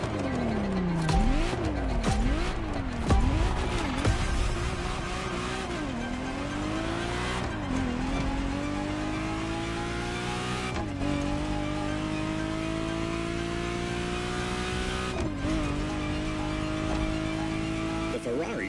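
A Ferrari Testarossa drives in the racing game The Crew Motorfest, its engine climbing and falling through repeated gear shifts, revving hard over tire squeal, loud and close throughout.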